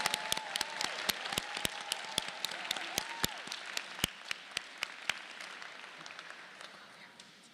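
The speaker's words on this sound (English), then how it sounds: "Will everyone please join me in a round of applause for these incredible students?" Applause from a commencement audience for graduating medical students, dense clapping with sharp individual claps standing out, steady for several seconds and then thinning toward the end; a voice briefly speaks over it early on.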